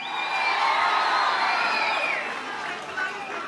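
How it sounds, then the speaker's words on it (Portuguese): Large audience at a government ceremony with the president applauding and cheering, a sustained dense roar of claps and shouts that swells and then eases slightly, voices blended throughout. "Uma salva de palmas ao amigo Márcio França"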